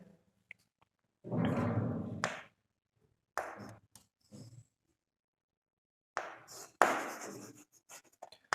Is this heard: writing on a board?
yes